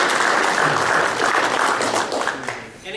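Steady applause from an audience at a church gathering, honoring a man named Jim, fills the full three seconds, dense and even before thinning slightly near the end.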